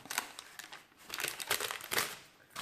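Parchment paper being peeled off rolled tart dough in a kitchen: a run of close crinkling and rustling bursts, irregular and fairly loud, with short pauses between pulls.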